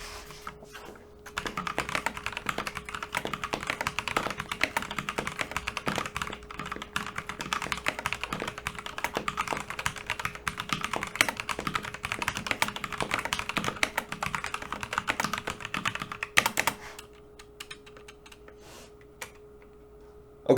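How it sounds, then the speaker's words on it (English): Fast, steady typing on a Havit KB487L 89-key keyboard with red switches, a close, continuous patter of light key clicks and thocks for about sixteen seconds, under a faint constant hum, before trailing off to a few stray taps. "standard sound from the red switches"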